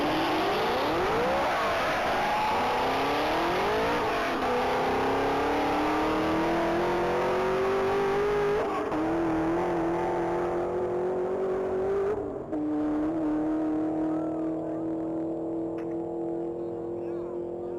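A 2015 Chevrolet Camaro ZL1 makes its first high-speed pass down a mile-long straight at a top-speed event, its engine note climbing steadily through the gears in a loud, sustained roar with a brief dip partway through.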